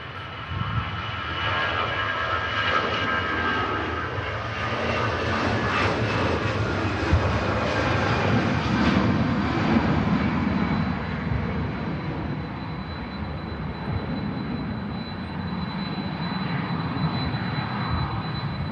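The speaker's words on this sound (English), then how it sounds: "Here goes the EasyJet for Belfast." An EasyJet airliner departs Manchester Airport for Belfast, its jet engines producing a loud, sustained roar that swells toward the middle and then holds, with no voices over it.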